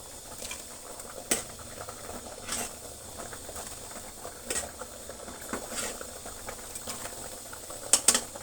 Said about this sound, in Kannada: ಇನ್ನೂ 1 ನಿಮಿಷ ಬೇಯಲಿ ಸೊಪ್ಪು.